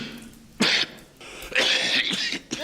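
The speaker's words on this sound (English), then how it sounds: "That's a rather nasty cough you have there." Two harsh, loud coughs from a person in a thriller film scene, the first short and the second longer and more drawn out, with no talking in between.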